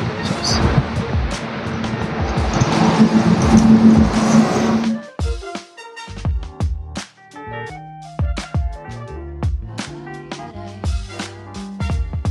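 Car traffic passing outside, a rumbling road wash for the first few seconds that gives way to scattered clicks and knocks, with traffic still faint underneath.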